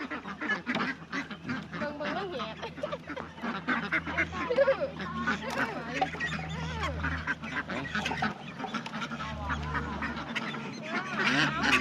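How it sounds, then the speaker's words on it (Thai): White ducks quacking and honking repeatedly, several birds close by in a steady jumble of calls, with people talking intermittently over them outdoors. "ดูเป็ด เป็ดอะไร โอ้เป็ดขาวพนะ่า"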